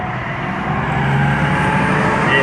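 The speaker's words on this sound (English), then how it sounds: "There's some trucks that come in and out of here quite often" Passing trucks rumble steadily close by, low engine drone holding throughout with no talking.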